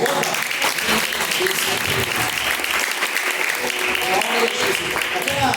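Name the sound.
congregation applauding in church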